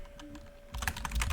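Keystrokes on a computer keyboard while Python code is entered, a faint hum at first, then a quick, closely spaced run of clicks in the second half, close and moderately loud, with no talking.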